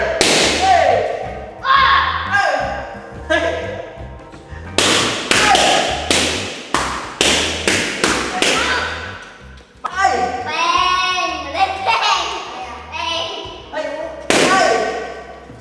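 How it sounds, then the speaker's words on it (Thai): Balloons popped in a game: sharp, loud pops and bangs burst one after another at irregular intervals, with squeaky rubbery stretching sounds and short vocal noises between them, nearby. "แล้วลูกโป่งที่เหลือ เรามาช่วยกันระเบิดดีกว่า"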